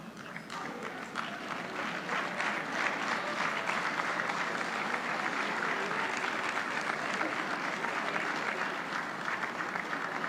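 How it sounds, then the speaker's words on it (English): Dense, even audience applause rolls on steadily through a large room at a charity gala, held at moderate level without letting up. "I want the applause to die down"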